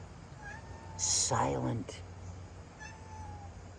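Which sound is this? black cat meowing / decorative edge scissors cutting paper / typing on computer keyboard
black cat meowing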